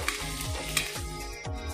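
Three dried red chillies fry gently in a tempering on low flame, a continuous soft sizzle broken by rhythmic stirring scrapes.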